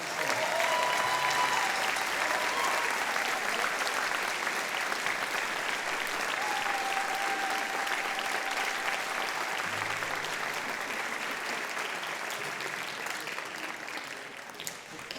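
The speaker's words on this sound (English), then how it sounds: "Would you please give them all a big round of applause for their participation?" A large audience claps steadily and loudly for a high school band at an April concert, the dense applause sustained for the whole stretch and tapering slightly near the end.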